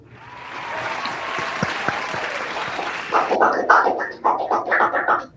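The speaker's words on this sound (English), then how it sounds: "Let's give Ambassador Alonto for a round of applause." An audience at a founding anniversary event applauds an ambassador after his speech. The clapping swells and holds, then a voice speaks over the fading applause.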